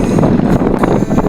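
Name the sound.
strong wind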